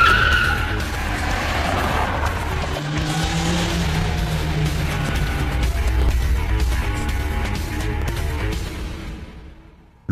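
Cars showing off on a city street outside clubs and discos at night, tires skidding and squealing in a long loud screech over a roaring engine, fading out near the end.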